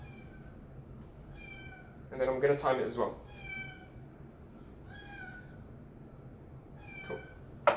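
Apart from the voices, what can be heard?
cat meowing for food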